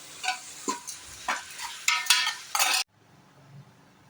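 Tomatoes with a little rock salt frying in a pan while being stirred for tomato rice, a series of scraping, sizzling strokes before the sound cuts to quiet.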